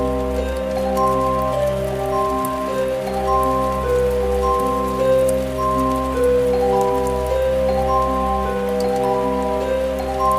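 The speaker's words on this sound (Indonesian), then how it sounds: "malah hujan deras" Heavy rain falls steadily in an animated cartoon, a dense, even patter that holds at the same loudness throughout. A sustained tonal hum runs underneath, with no speech.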